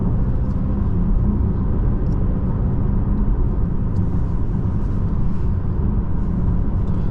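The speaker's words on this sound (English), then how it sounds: "The nice thing about this V8 is you don't even need to apply much throttle" Audi S8 4.0T V8 engine accelerating on a road, a steady low rumble with broadband road and wind noise, heard from inside the cabin, continuous and moderately loud with no talking.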